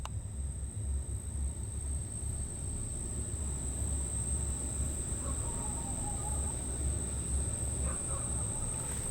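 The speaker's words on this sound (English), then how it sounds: "God, there's so many bugs out here." Steady outdoor insect chorus at night, likely crickets, a constant high-pitched drone over low rumbling background, with faint bird-like calls near the middle and end.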